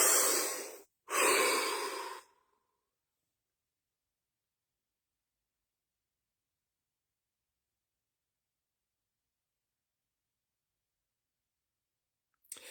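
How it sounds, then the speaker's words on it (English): A person takes two deep, close breaths, a short inhale and a longer breathy exhale, followed by a long stretch of silence. "Deep breath."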